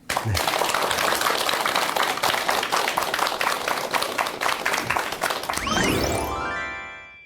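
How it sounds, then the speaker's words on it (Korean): Lecture audience applauding a psychology professor's talk on meditation: dense, steady clapping from a room full of people for about six seconds, then fading out under a rising tonal sweep at the end. "여러분 큰 박수 부탁드립니다"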